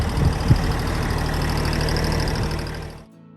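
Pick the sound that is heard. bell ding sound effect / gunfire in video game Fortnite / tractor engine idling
tractor engine idling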